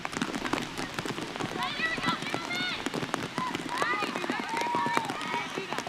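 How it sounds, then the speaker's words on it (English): Steady rain falls during a women's college soccer game between Rutgers and Penn State, a dense hiss of drops across the field. Sharp taps, whistle-like tones and distant crowd sounds sit within it, and a commentator talks over the rain. "Rain started just as we started this game, and it has not stopped."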